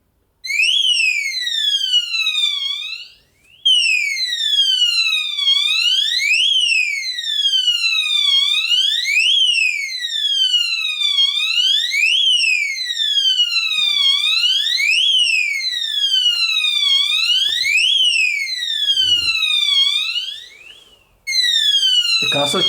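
Alarm from a prototype RF receiver set off when a tilt sensor breaks communication: a loud, continuous electronic siren sweeping up and down in repeated whooping cycles, with two brief dropouts.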